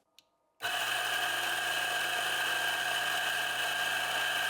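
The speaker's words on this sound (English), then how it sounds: "There's this high-pitched tone when using the grinder that really annoys me." An espresso grinder, a single-dose model, starts abruptly after a small click and runs steadily with a whiny high-pitched tone over a motor hum, close and constant with no voices.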